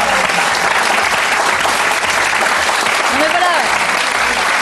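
Loud, sustained applause from a studio audience at a French television show, dense clapping throughout with voices and cheers mixed in.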